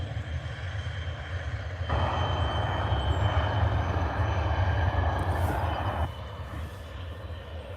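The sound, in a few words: Ryanair airplane from Dublin arriving at Liverpool Airport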